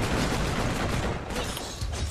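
An ultimate skill from the online game Cyphers bursts off in a dense, loud barrage of rapid gunfire-like blasts that continue without a break.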